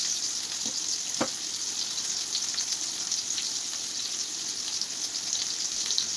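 Masala sizzling steadily in a hot pan for a paneer and parwal (pointed gourd) curry, a continuous crackling fry with a few sharp pops near the start and no talking.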